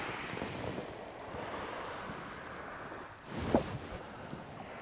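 Incoming tide washes onto a West Sussex shore, a steady rushing of surf and water with wind noise on the microphone and a brief louder splash near the end.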